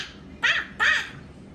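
A child imitates a crow with two loud, harsh caws spaced close together, each burst short and raspy, with quiet room around them.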